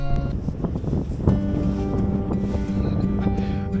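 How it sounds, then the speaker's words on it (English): Wind blowing on the beach at Fleetwood by the sea, a steady roar buffeting the microphone with surf noise underneath and no talking. "It is a little bit windy"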